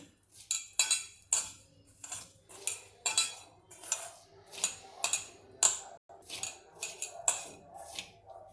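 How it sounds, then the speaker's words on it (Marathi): A spoon clinks and scrapes rapidly against a bowl in quick, uneven bursts as thalipeeth flatbread ingredients are mixed with oil, close up and fairly loud. "हे आधी आपण सगळं मिसळून घेऊया"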